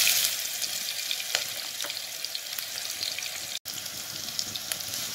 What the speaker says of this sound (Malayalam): വെളിച്ചെണ്ണ ചൂടായിട്ട് വരുമ്പോൾ നമുക്കതിലേക്ക് ഇഞ്ചി, പച്ചമുളക്, വെളുത്തുള്ളി അരച്ച് വെച്ച പേസ്റ്റ് ഇല്ലേ, അത് ഇട്ട് കൊടുക്കാം.